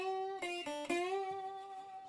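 A metal slide glides along the strings of a National Steel resonator guitar, producing a sustained, ringing harmonic tone that dips and rises in pitch, with a couple of brief re-plucked notes, played close and alone.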